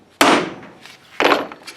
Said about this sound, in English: And give it a whack with a hammer.